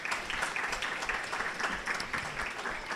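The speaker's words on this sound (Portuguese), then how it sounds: "Nós continuaremos os aplausos para o candidato." Audience applause for a candidate at a legislative debate with candidates for federal deputy, dense close clapping from a crowd filling the whole moment at a fairly loud, steady level.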